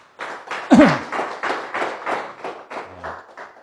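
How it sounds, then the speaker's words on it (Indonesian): A small group clapping at a business seminar, a run of about a dozen distinct, fairly close hand claps in loose rhythm, with a brief vocal sound near the start. "Tepuk tangan buat beliau."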